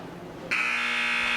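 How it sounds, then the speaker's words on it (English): Loud sustained electronic buzzer marking the end of a varsity high school wrestling match, cutting in sharply and holding steady amid gym crowd noise. "There's the buzzer."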